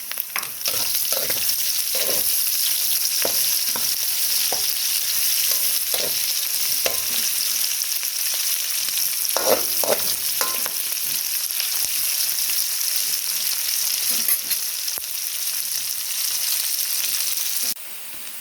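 Garlic and onion sizzle steadily in hot oil in a pan, with scattered stirring scrapes and clicks over an even crackling hiss that runs throughout.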